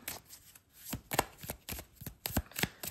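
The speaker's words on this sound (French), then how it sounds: "Et ben on va mélanger et on va sortir une carte" A deck of Lenormand oracle cards is shuffled by hand in close, quiet surroundings, giving a series of sharp, crisp riffling bursts in an uneven rhythm, with no voices.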